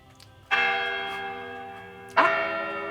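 A church bell strikes twice, about two seconds apart, each stroke a bright, ringing clang that hums on and slowly decays.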